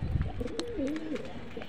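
A pigeon gives a soft, low coo, with faint pecking noises as a flock feeds on eggshells nearby; brief and close, without talk.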